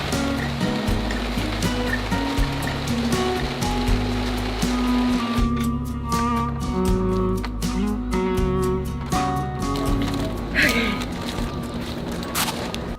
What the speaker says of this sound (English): whenever this rain decides to give me a break